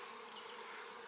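Honeybees on a hive frame, with a dense, steady buzz from many bees close by, faint overall and unbroken, no voices.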